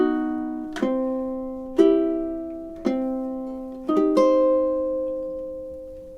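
Ukulele slowly plucks measures 19 and 20 of a song, five separate chords struck one at a time with ringing decay between them, clean and close with no voices.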